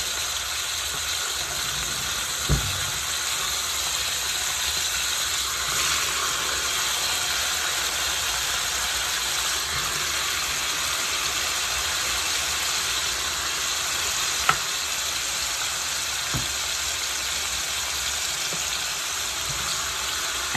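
Tomatoes frying in a pan, heard as a steady, loud, broadband hiss that fills the whole stretch, with only a couple of faint knocks and no speech.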